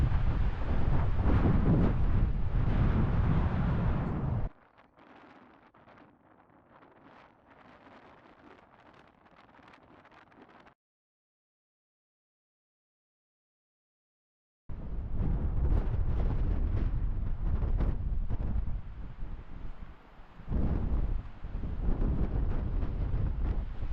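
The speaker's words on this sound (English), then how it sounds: "It's gotten really windy." Strong wind at Bryce Canyon National Park in early April buffets the microphone in loud, rumbling gusts, easing to a faint rustle, going briefly silent, then roaring back hard.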